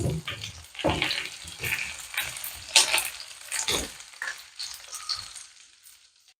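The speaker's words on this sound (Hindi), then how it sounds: "अब हम इसमें प्याज डाल देंगे। प्याज को हल्का सा ब्राउन कर लेंगे" Onions frying in hot oil in a karahi for chicken karahi: a loud, bubbling sizzle that surges in bursts as they are stirred, then gradually quiets and fades toward the end.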